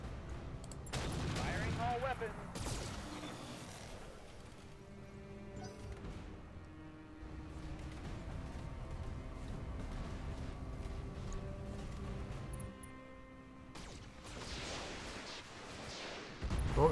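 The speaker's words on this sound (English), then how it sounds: "Comes the missiles." Volleys of missile fire in the mech combat game Roguetech, a burst of launches and impacts at the start, then a rumbling stretch and another barrage near the end, with a voice speaking over the action.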